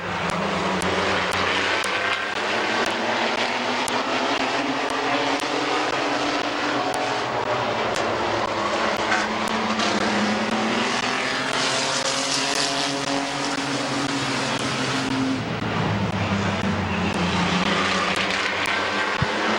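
Race cars roar around the Midvale Speedway oval, a continuous loud engine drone rising and falling with Doppler-like pitch sweeps as the pack passes, with no voices.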